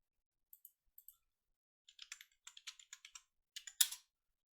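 Someone types a password on a computer keyboard in a quiet room: a few isolated key taps, then a short run of quicker clicks, ending in a louder final keystroke.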